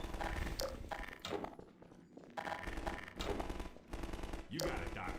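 Rapid automatic shotgun blasts from a combine shotgunner in the video game Half-Life 2, loud bursts of gunfire repeating in quick volleys over a dense game mix, with a person's voice mixed in.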